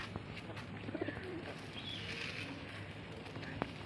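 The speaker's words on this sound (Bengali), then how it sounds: "এই হচ্ছে পায়রা দাদা, নর মাদি সমান সমান আছে।" Punjabi Malbai pigeons, white-eyed birds of top breeding lines, give a few soft, low coos near the start over a steady background hum and scattered faint chirps.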